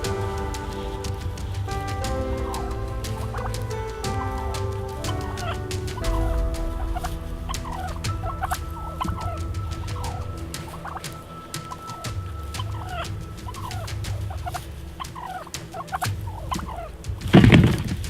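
Wild turkeys gobble again and again during a turkey hunt, calls ringing out at moderate distance over a steady outdoor background, with a louder burst near the end.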